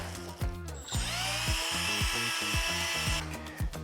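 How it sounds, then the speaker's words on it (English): A 15mm sanding barrel on a small rotary power tool whines steadily while smoothing aircraft-style metal, with a higher grinding tone in the middle and short scraping strokes throughout, close and with no talk. "And a 15mm sanding barrel just to finish it off."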